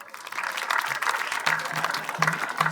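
Audience applause at a university graduation ceremony in Podor, steady dense clapping across the whole clip with a few faint voices and low tones mixed in.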